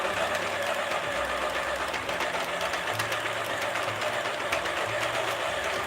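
A knitting machine working a beanie, with a continuous mechanical clatter and rattle and low intermittent hums as the carriage moves, steady and close with no talking.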